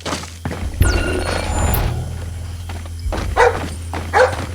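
A guard dog on a private estate in Splinter Cell Blacklist barks in short, sharp bursts at mid distance, over ambient game sounds and a brief electronic chime.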